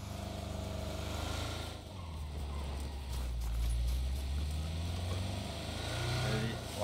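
Motorcycle engine in the video game PUBG, a low, steady engine drone that rises and dips in pitch as it revs, fairly close, with players talking over it.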